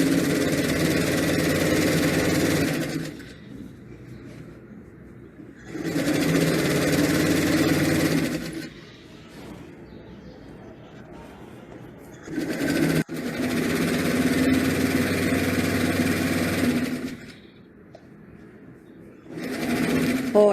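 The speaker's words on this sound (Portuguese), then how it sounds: "que eu tenho a máquina, que é a overlock" An overlock sewing machine stitches in three loud, steady whirring runs of a few seconds each, separated by quieter pauses with faint handling noises.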